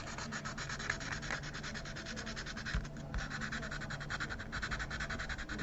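Close, quiet rubbing on a bone guitar nut to remove blue ink: rapid back-and-forth scratchy strokes in a steady rhythm, with no talking.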